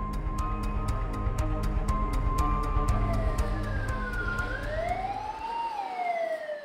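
Fire engine siren on patrol at Seomun Market, a loud wailing tone that slides up and down over a rhythmic electronic pulse and idling engine rumble, fairly close and sustained.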